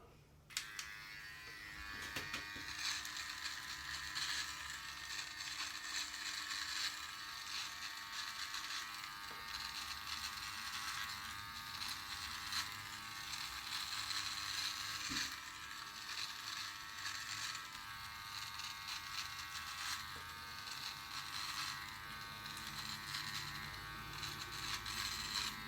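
Electric beard trimmer set to 3mm, with oiled blades, running continuously as a steady high buzz close to the microphone, with slight changes in pitch as it moves through the beard, for the whole stretch.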